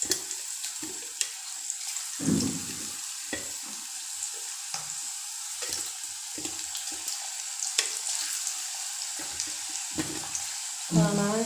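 Tapioca (kappa) frying in a pan at home, a quiet continuous sizzle punctuated by repeated scraping and stirring knocks from a utensil, with occasional faint background sounds.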